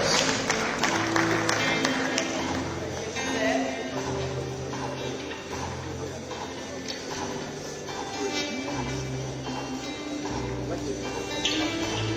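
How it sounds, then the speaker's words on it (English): Steady applause from a large crowd at a capital markets award ceremony rolls on over background music, loud and continuous throughout. "So another round of applause as he has the stage."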